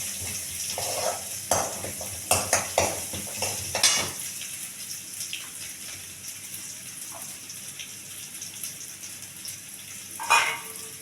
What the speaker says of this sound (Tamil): பூண்டு வந்து நல்லா வதங்கட்டும், கொஞ்சம் நல்லா வதங்கட்டும்.